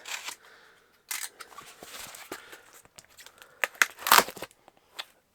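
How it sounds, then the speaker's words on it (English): Scissors cut through the packing tape on a parcel, with sharp snips and ripping crackles coming in short bursts, close and fairly loud, with quiet gaps between them. "Let me just cut the tape."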